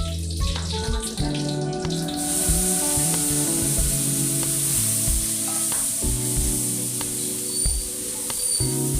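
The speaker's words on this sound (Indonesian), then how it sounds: "Sekarang kita tumis dulu." Ground spice paste for a bamboo shoot dish hits hot oil and sizzles steadily, a bright, continuous hiss with stirring, over soft background music.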